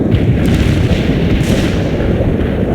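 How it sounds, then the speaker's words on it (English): A video game artillery barrage rumbles without a break, loud and dense low booms rolling continuously with no clear gaps between shots. "Artillery strike on the way."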